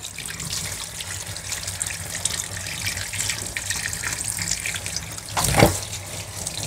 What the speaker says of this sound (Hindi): अभी चिकन हमारा धुल चुका है